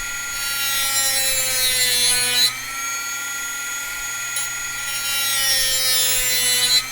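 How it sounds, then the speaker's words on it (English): A metal file cuts through brass parts for a model kit build, giving a steady close rasping scrape with a sharp pause near the midpoint before the strokes resume, and no voice over it. "Files cut through brass pretty quickly."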